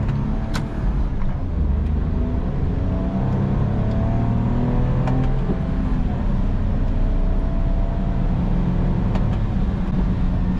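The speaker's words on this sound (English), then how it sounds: "let me give this thing a go doing some shifting here." A 2014 Smart Fortwo drives on a road, heard from inside as a steady engine drone with rising and falling pitch while it accelerates and shifts gears, with no voices.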